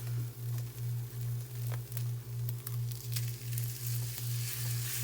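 Salisbury steak patties frying in a pan give a soft, steady sizzle with light crackles, under a low rhythmic pulsing hum that repeats about twice a second, with no talking.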